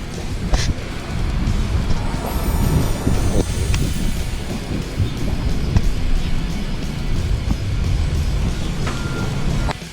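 A train passes in Honolulu, Hawaii as a steady, loud rumbling roar lasting the full ten seconds, heard from a bike ride and mixed with wind noise.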